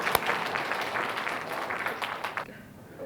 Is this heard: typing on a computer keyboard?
no